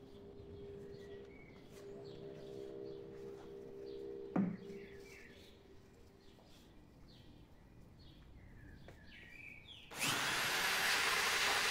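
An electric mixer starts in cement blended with shampoo foam. After a quiet stretch with faint background noise and a single knock, a loud, steady whirring churn kicks in.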